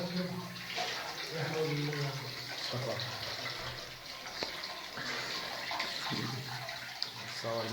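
Water runs steadily into a bath, a continuous gushing hiss from a tap that persists under conversation between several people nearby.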